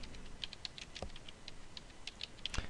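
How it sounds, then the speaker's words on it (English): Someone types a search query on a computer keyboard: a string of light, quick key clicks with irregular rhythm and a couple of firmer taps, faint and close, without speech. "let me just type it in"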